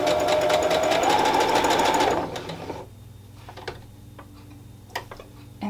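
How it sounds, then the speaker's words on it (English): A sewing machine stitches lace onto fabric in a short burst of about two seconds, a close, fast mechanical whir that stops, leaving quiet handling clicks and faint ticks afterward. "sewing about an inch at a time, so that I make sure that I'm on course"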